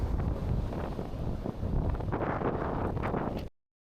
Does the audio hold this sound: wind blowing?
yes